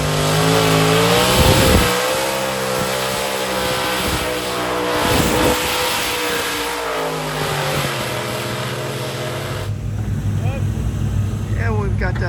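Ricky Rose's four-engine modified pulling tractor at a national championship tractor pull, a loud continuous engine roar with shifting pitch that drops away near the end, commentary voices over it.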